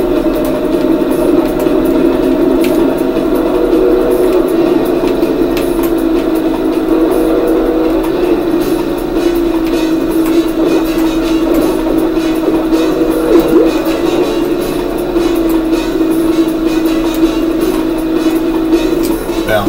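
A one-lap kart race in Pac-Man World Rally, with a loud continuous engine drone and racing game effects under scattered background sounds throughout.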